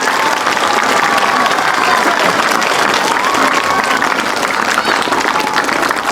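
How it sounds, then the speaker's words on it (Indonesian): A crowd at an Islamic boarding school graduation ceremony breaks into sustained applause, loud dense clapping with some voices mixed in, continuing steadily for several seconds. "Maka tepuk tangan untuk santri di Indonesia."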